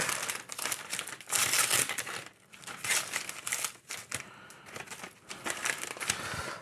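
Plastic packaging around a houseplant crinkles and crackles in bursts as it is unwrapped close by, with short pauses between handfuls of rustling.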